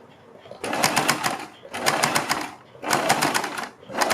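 A sewing machine stitches a suit neckline in three short bursts, each roughly a second long, separated by brief pauses, fairly close and clear with no talking.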